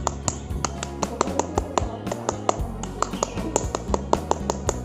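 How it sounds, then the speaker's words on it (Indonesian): Scout-style rhythmic clapping, a tepuk pramuka pattern, comes as sharp, close, patterned claps in quick bursts and pauses, repeated through the whole stretch with a low hum underneath. "2 kali tepuk pramuka"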